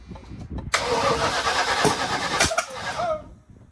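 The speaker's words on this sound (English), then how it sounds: "No gas, just crank. Just hit it." A 1979 Chevrolet Malibu engine cranks hard for about two seconds without catching, a loud, close, rhythmic starter churn that stops abruptly, with faint sounds before and after and no talk.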